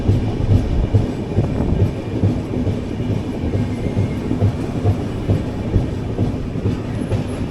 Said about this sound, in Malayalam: ഓപ്പോസിറ്റ് ലൈനിൽ പരശുരാം എക്സ്പ്രസ് വരാനുണ്ട്